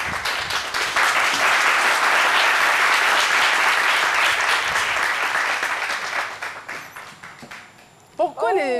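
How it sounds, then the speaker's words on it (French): A studio audience claps steadily through most of the stretch, the applause fading gradually before a speaking voice cuts in near the end. "Pourquoi les applaudissements sont si timides"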